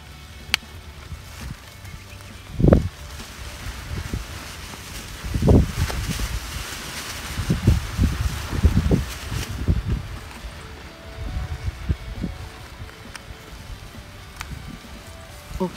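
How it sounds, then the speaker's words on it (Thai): Strong wind gusts blow outdoors where hairy basil seedlings are being separated and replanted, buffeting in uneven surges with rustling between the louder bursts. "ตรงนี้สภาพลมแรง"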